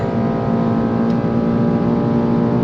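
A 2023 BMW M2 G87 pulls hard at very high speed on a circuit, its engine holding a loud, steady, sustained drone from inside the cabin with no break in the sound.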